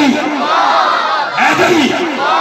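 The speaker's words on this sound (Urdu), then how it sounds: "زور لگا کے نعرے حیدری حیدری" A large crowd at an outdoor religious conference in Mianwali loudly chants "Haidari" in unison, rising and falling in repeated swelling calls that echo close and powerful.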